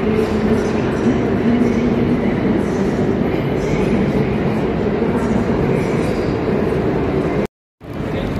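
Loud, continuous rumble of a metro train moving through an enclosed underground station in Antwerp, Belgium, with rattling wheels, a brief dropout near the end.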